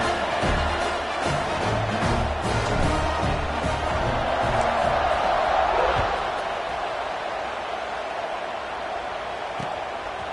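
Stadium crowd at a UCLA vs Washington college football game roaring during a kickoff, a dense sustained wash of cheering and noise that swells midway and then settles to a steady din.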